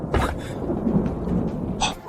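Thunder from a lightning tribulation in a dubbed fantasy drama: a heavy rolling rumble with sharp cracking bursts near the start and end, over a continuous rain-like hiss, loud and close, no voices.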